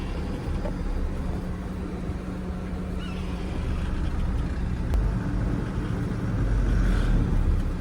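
A BharatBenz truck cruising in fifth gear, its engine a steady low rumble with broadband road and cab noise throughout, swelling slightly louder near the end; no talking.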